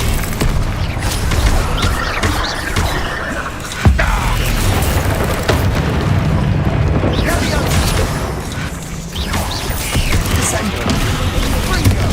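A Bombarda spell explodes in Hogwarts Legacy, a dull boom near the four-second mark that cuts through dense game effects and combat noise, with a voice speaking over the action.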